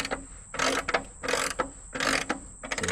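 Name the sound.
tightening a mechanism while making lumber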